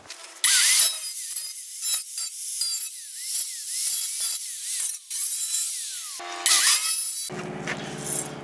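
A cutoff wheel slices through the front fender of a 1999-2004 Jeep Grand Cherokee for a Bushwacker flare install, a loud, close, high-pitched screeching grind in intermittent bursts with short pauses between cuts.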